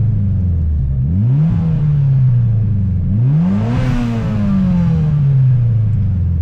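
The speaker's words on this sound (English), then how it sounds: "So, man, I love the sound of the car now." A Mitsubishi Evo X with a single-exit HKS exhaust revs up twice, each deep engine sweep climbing in pitch and easing off, loud and close with no talking.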